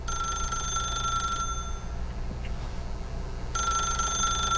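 An electronic telephone ring from The Stanley Parable video game, a steady high-pitched electronic trill that sounds at the start, drops out briefly, then resumes over a constant low background hum.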